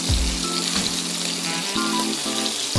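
An entrecote steak sears in a hot pan, giving a loud, steady sizzle and crackle that stays close and constant throughout, with a few clunks and shifts of the meat.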